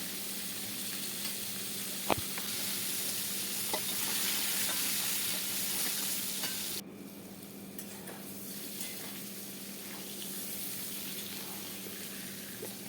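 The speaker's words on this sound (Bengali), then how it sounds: "তো এবার আমি এখানে একে একে সব সবজিগুলো ভেজে নেব।" Vegetables for taheri frying in a pan, a continuous bright sizzle with a single clack early on, then dropping quieter partway through as the frying settles.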